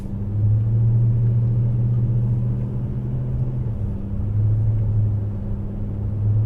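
A car pulls away from a green traffic light, its engine a steady low rumble that swells slightly as it gains speed, close and continuous with no talk.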